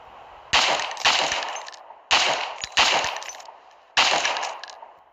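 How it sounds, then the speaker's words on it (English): Several loud shotgun blasts in an animated story, fired in uneven bursts with sharp cracks and short decays between them, no talking. "He managed to shoot a few times before eventually running off ammo."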